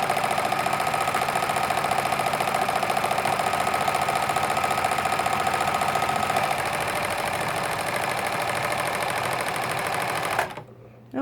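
Necchi 3101 sewing machine motor running steadily with a continuous whirring hum and mechanical rattle, close and loud, then cutting off abruptly near the end.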